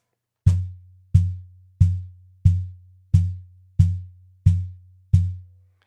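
Eight deep, booming cajon bass notes struck at a steady even pace, each a thumping low hit with a quick decay, captured close with the high end filtered away and no talking.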